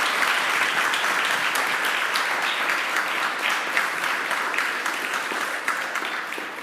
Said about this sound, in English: I would like you to applaud the